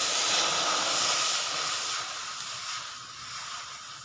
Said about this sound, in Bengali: এবার কড়াইয়ের মধ্যে দিয়ে দিচ্ছি পানি।